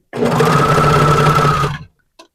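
A sewing machine stitches and trims 1/8 inch off stretchy legging fabric in one continuous, close whirring run of under two seconds, then stops abruptly, followed by a faint click.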